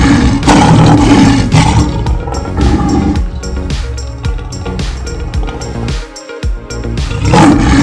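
A lion roaring in a children's alphabet lesson, several loud, rough roars in succession over a dense, busy background, with the last roar rising again near the end.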